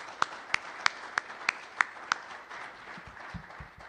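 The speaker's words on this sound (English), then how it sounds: "Let's give them one last round of applause." An audience applauds presenters at the close of a day of talks, starting with about seven distinct, evenly spaced claps that fade into softer scattered clapping.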